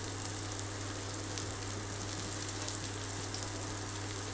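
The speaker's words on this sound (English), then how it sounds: "Can you hear the sizzle?" Meatballs fry in a pan with a steady, close crackling sizzle that holds evenly throughout, with a constant low hum beneath and no voices.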